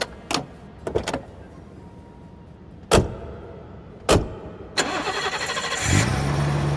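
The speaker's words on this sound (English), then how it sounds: "Her car was in the station car park. It was a BMW." A BMW car engine starting: several short door or mechanical clunks, then the engine cranks and catches, settling into a steady close idle.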